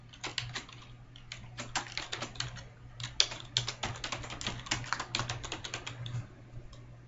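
Rapid, uneven keystrokes on a computer keyboard, with bursts of clicking and short pauses, close and fairly quiet over a low steady hum.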